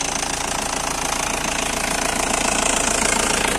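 Engine of a gold 2002 Isuzu Panther LS running steadily, a loud close rough diesel-like clatter with constant knocking rhythm throughout and no talk.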